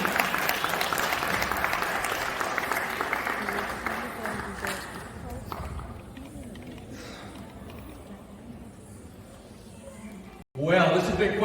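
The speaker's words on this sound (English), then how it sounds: "So ladies and gentlemen, please, huge round of applause is much needed for our chief guest, Robert Lancia." A fundraiser audience gives the chief guest a big round of applause, dense and steady at first, then slowly thinning and fading over about ten seconds before an abrupt cut to a louder sound.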